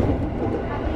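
A KRL JR 205 electric commuter train rumbles steadily, a dense low roll of wheels and motors heard close as if from on board, continuous for about a second.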